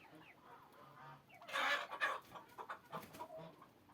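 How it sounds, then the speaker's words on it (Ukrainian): Naked-neck chickens settle down to roost together on a ladder, giving soft low clucks that swell into a louder burst of close, throaty clucking and squawks, then trail off into scattered murmurs. "посідали мої голошийки теж спати, наїлися. Ось вони всі сидять на драбинці."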